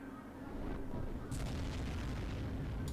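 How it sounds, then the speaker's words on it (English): Tanks firing in a Hulk video game: heavy booming blasts rumble continuously under dense battle noise, with sharper bursts near the middle and end. "Oh, here's a whole bunch of tanks right here."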